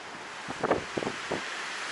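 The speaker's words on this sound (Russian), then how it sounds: "Ветер очень сильный, прям очень." Steady, gusty strong wind roaring across the microphone in Kaliningrad, with a few brief rustling bursts rising out of the constant blustery noise.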